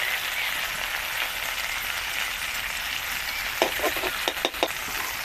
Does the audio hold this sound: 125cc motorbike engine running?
no